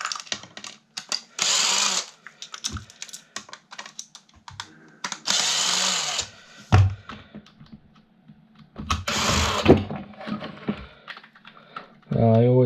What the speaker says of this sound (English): Then back to my drill. Take screws off.